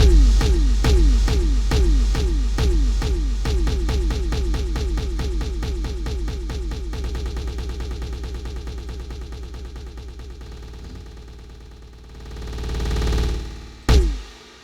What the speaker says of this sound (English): So this is a kind of drop down effect with a delay.